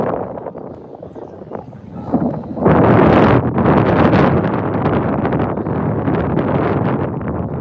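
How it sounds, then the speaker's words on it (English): Wind gusts across an outdoor high school boys' soccer field, roaring loudly into the microphone as a gust builds sharply and then rushes on steadily. "There's the wind picking up again."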